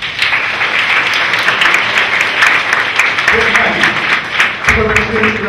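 An audience applauds a student at a motivational session, dense sustained clapping filling the room, loud and unbroken, with some voices mixed in beneath it.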